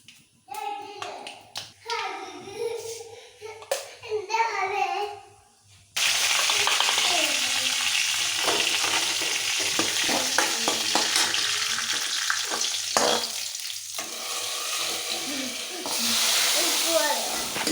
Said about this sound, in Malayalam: ഇതിന് കുറച്ച് കടുകും ഉലുവയൊക്കെ ഇട്ടിട്ടൊന്ന് പൊട്ടിച്ചെടുക്കട്ടെ.